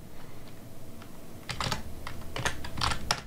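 Typing on a computer keyboard while modeling in SketchUp, a soft run of key clicks that turns into a brisker, louder burst of taps halfway through, close and without talk.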